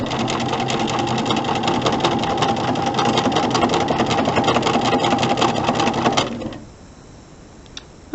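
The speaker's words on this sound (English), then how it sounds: "I will just continue sewing these until I have them all put together into pairs." A sewing machine stitching quilt block corner unit fabric pieces into pairs: fast, even needle chatter running steadily for about six seconds close up, then stopping, leaving near silence with a small click.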